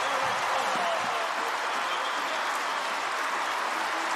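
A stadium crowd roars and cheers steadily after a touchdown at a Purdue at Iowa Big Ten college football game, a dense, sustained wash of distant voices with no break.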